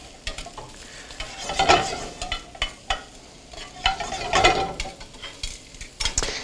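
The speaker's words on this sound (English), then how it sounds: "while these are sauteing" Mushrooms sautéing in a little oil in a pan, a close steady sizzle with repeated stirring scrapes and soft utensil knocks rising and falling every second or so.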